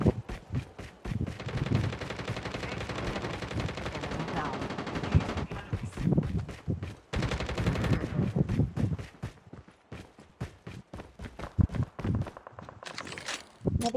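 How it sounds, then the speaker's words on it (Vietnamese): Rapid bursts of video game gunfire crackle in quick volleys, with short pauses between them and a faint rhythmic thumping underneath. "súng bắn kìa"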